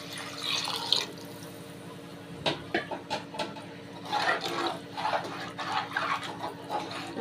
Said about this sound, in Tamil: அரிசி ஆட் பண்ணியாச்சு இப்போ நம்ம தண்ணி ஆட் பண்ணிடலாம்